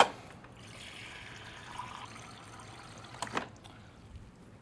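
Plain tap water poured into a Dutch oven while making beet tonic, a quiet continuous trickle and splash that rises slightly near the end, heard close up with no talking.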